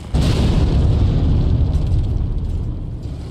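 A loud, deep explosive roar bursts out in a Skyrim dungeon after a dragon shout, a sustained rumbling boom that rolls on and slowly fades over a few seconds.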